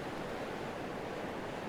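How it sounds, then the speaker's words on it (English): Ocean waves surge in and drag back across the shore at a coastal spot, a close, steady rushing wash of surf without a break, with no voices. "I've got a bit of wave coming in and dragging back"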